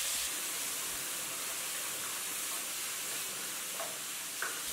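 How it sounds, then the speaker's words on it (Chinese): Tomato chunks stir-fried in hot oil with garlic in a wok, giving a steady, loud sizzle with a faint scrape of the spatula near the end and no talking. "随后下入番茄块翻炒"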